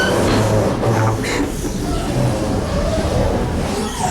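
Overnight sleeper train from Shijiazhuang to Shanghai rolling loud and close through rail junctions near Suzhou Station, rumbling with a few rhythmic wheel clunks.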